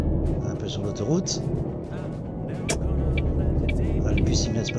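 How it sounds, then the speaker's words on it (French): A bus passes by in the driving game Heavy Cargo, a steady low engine rumble with a brief air-brake hiss, heard under continuous talk. "Ah, le bus il vient de se passer"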